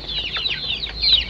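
Chickens in a poultry coop clucking and chattering continuously, several overlapping calls close by with a steady low hum of the coop underneath.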